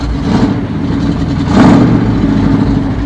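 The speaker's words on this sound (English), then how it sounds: "just listen to the music the engine makes" A 1973 Ford F-250 Highboy pickup engine with glasspack mufflers rumbles close by, idling with a deep steady drone and a slight rise in revs partway through.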